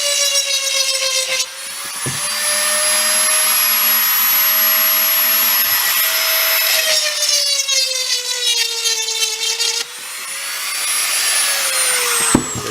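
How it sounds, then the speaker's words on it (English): A handheld Dremel rotary tool whines at high speed while slightly enlarging holes, its steady pitch dipping and rising as the bit bites in and eases off, loud and close throughout with no talking. "I'm just going to get my trusty Dremel and just ever so slightly Dremel the holes as that little bit bigger."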